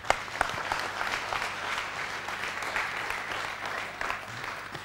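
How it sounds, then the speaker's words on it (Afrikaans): A church congregation claps for the Lord in a dense, lively round of applause that stays strong and even from start to finish, with no talk over it. "Gee die Here 'n hande klap toe."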